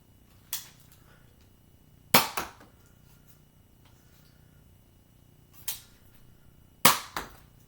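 Nerf N-Strike Elite NanoFire toy blaster firing darts: four sharp, snappy pops spaced a second or more apart, some followed by a quick second click, close up against a quiet room with no speech.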